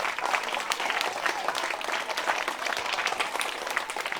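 Sustained applause from a school-event audience honouring Srihari, a dense, steady patter of many hands clapping at even strength for the full stretch, with no voices over it.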